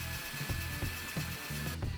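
A power drill bores a 3/8-inch hole through the steering stock of a Toyota truck or 4Runner while a steering stabilizer bracket is fitted, a continuous whirring grind with a few brief pulses and dips, close by and alone.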